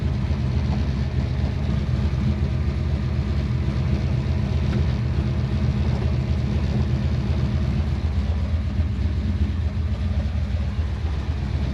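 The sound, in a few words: 1968 Chevrolet Chevelle SS engine running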